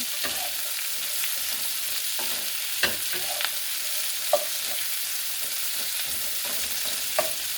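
Onions and potatoes fry in a pan with a steady, fairly quiet sizzle, while occasional sharp scrapes and taps of stirring sound up close.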